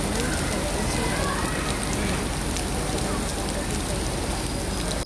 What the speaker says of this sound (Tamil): திடீர்னு எங்கேருந்து மழை வந்ததுன்னு தெரியல, செம்ம மழை.